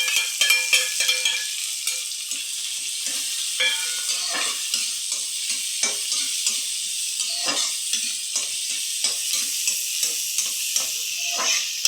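Thickly sliced onion sizzles in hot tempering oil for a Karnataka-style greens stir-fry, a steady crackling fry with frequent sharp spatters and stirring scrapes, close and continuous with no talk.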